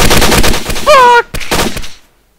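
Gunfire in the Arma video game until the magazine runs empty, a loud, rapid string of close shots that then cuts off into silence, briefly mixed with a tonal game sound.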